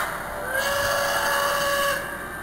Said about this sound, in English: You didn't just blow the whistle, did you?